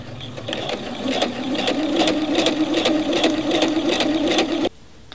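A sewing machine runs a regular stitch along the top edge of lace on a flower pillow sham, a loud, steady rhythmic hum for about four and a half seconds that then stops abruptly.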